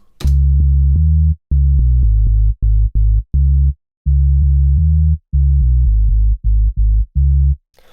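Deep synth sub bass notes, split by frequency in Logic Pro X, play in a choppy rhythmic pattern of short and held tones, split by brief silences, loud and clean.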